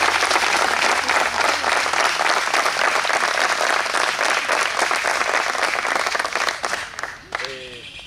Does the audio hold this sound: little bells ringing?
no